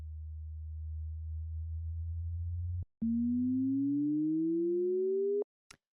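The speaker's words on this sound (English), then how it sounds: "Like a low sine wave that I bounced out" A low, smooth sine tone from the Massive synthesizer holds steady, cuts out briefly, then returns slightly higher and slowly rises in pitch before stopping abruptly.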